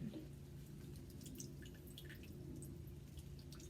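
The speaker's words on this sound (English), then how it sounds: "when you squeeze it, the water drips out" Water dripping and trickling out of a squeezed plastic plant pot after watering fresh soil, a steady quiet patter of small drips close by with no talking.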